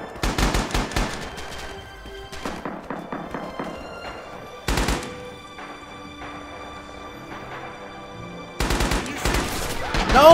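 BAR rifle gunfire in the Red Orchestra 2 video game with the Heroes of the West mod: loud rapid automatic bursts in several separate strings, close and punchy, with other distant shots between them.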